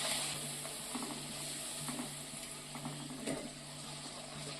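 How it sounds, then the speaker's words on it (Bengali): Potato-and-flour dough pieces frying and puffing up in oil, giving a faint, steady sizzle with light bubbling and occasional soft clicks from turning them. "এইভাবে আমি সবগুলোকে ভেজে নিচ্ছি"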